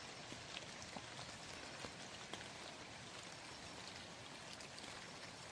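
Steady rain falls outdoors beside a river during a fishing trip, a dense even hiss of drops on surfaces with scattered louder drips, continuous and fairly close.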